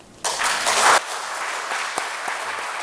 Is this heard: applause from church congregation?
yes